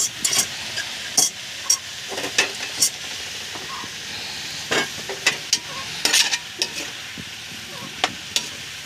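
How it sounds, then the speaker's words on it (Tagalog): Bottle gourd (upo) sautéing in a pan sizzles softly while a utensil stirs it, producing repeated sharp scraping and clattering strokes over the steady frying hiss. "Halo-haloin natin na ganito."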